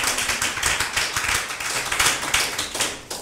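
Church congregation at a Sunday service in Treichville applauding together, a dense, steady clatter of many hands with rhythmic surges, loud and close, filling the whole span with no talk.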